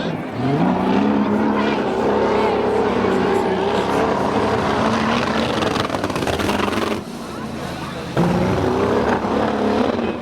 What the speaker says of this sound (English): if you think that engine sounds strange, it's probably because it's a V12 Jaguar